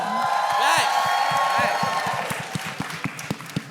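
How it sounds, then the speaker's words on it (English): Audience applause and cheering for the only woman on a TV drama cast panel at a season watch party, a dense crowd of clapping and whoops that thins into scattered individual claps. "let's give the round of applause to the only woman on the panel right now"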